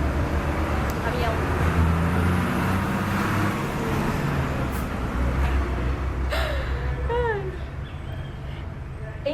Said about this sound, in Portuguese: Caminhão.